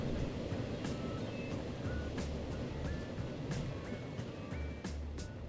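A five-car train running in the video game Transport Fever, a steady rumbling rattle of wheels and carriages with faint high tones and light clicks over it, continuous and even.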